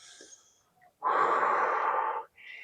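Forceful breath out during a hip mobility exercise: one long, breathy exhale lasting about a second, close and clear, framed by softer breathing before and after.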